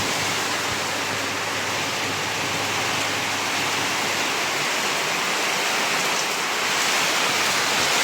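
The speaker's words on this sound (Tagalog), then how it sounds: "Lumalakas sobra yung ulan" Heavy super typhoon rain roars in an unbroken, dense wash, loud and close, swelling slightly toward the end with no voices.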